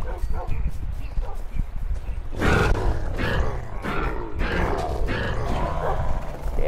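Deep dog barks and growls in short bursts over a noisy, busy background, with a voice speaking, from Minecraft during an illager war.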